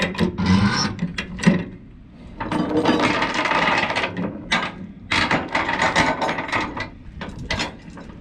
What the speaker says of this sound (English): Pull as much slack out as possible. There we go. Crank that down tight.